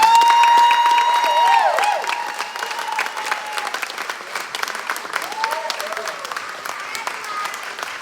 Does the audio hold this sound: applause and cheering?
yes